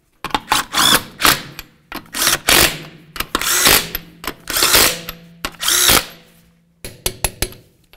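Power tool rattling in repeated short bursts on the wheel lug nuts of a 2011-2016 Hyundai Elantra, a loud close hammering buzz starting and stopping about a dozen times with brief pauses between.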